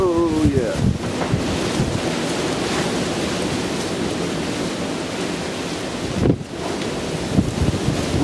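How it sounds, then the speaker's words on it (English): Strong southerly wind storm buffeting outdoors, a steady loud roar of gusts with rumbling turbulence throughout and a brief sharper burst near the end, with a faint rattling of plastic sheeting. "Wind's coming out of south-southeast."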